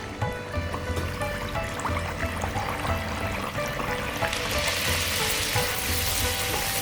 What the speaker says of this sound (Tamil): எண்ணெய் காஞ்சிட்டு இப்போ பூரியை பொரிச்சிடலாம்.